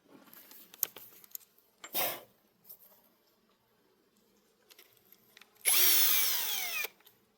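Short bursts of a power drill driving screws into a P19 Oshkosh rescue truck, two brief runs early on and a longer loud whir near the end, with quiet handling noises between.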